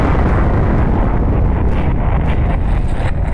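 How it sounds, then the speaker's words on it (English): A bomb going off in the Melon Playground video game, a loud, sustained roaring blast that fills the whole moment, with a rumbling low end and a few crackling pops on top. "And that's a bomb. Yeah, the little boy bomb."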